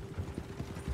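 Horse hooves clip-clop in Red Dead Redemption 2, a few soft, low thuds across a short stretch over a steady low hum.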